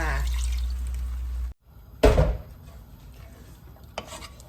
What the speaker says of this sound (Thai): ใส่น้ำข้าวเบือลงไปเลยค่ะ